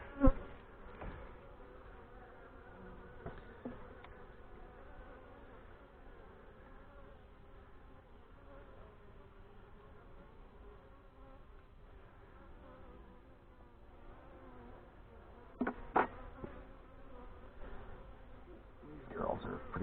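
Honey bees buzz steadily around an open hive during an August inspection of hives 4 and 5, a continuous close drone with a few brief knocks and handling sounds near the end.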